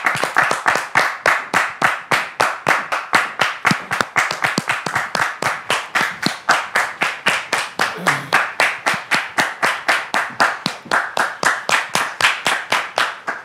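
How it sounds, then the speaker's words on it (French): A television studio audience claps steadily for arriving guests, dense rhythmic applause holding at an even, loud level throughout without a break. "vous le démontrez par vos applaudissements"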